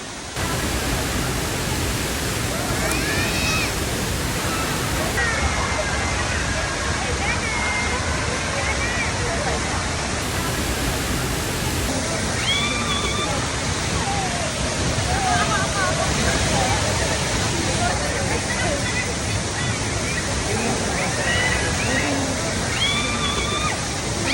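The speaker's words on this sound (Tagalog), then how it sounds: "Ito yung Mother Falls" Mother Falls, a waterfall in Ditumabo, Aurora, pours in a steady, loud broadband rush with sloshing water texture, while voices and brief birdlike chirps sit faintly over the constant roar.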